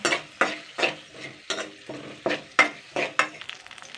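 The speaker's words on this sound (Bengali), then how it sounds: "এইবার আমি এটাকে জাস্ট দুই মিনিট মতো নাড়াচাড়া করে নেব" Chillies being stirred and fried in a pan for a malabar spinach seed curry: a steady run of roughly ten sharp scraping strokes about every half second over a light sizzle, close and fairly loud, with no talking.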